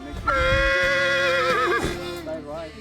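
Mustang horse at a guest ranch gives one long, loud, wavering whinny that rises sharply, holds, then trails off, close by, with a little low rumbling underneath.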